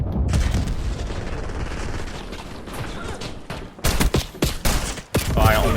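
Rapid gunfire from a new pistol in the shooter Black Ops 6, loud booming shots in a dense burst followed by several separate heavy blasts, with a player voice briefly under the action.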